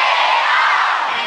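A comedy club crowd shouting back at comedian Tyson in one loud, sustained roar, dense and close, lasting just over a second with no other voice over it.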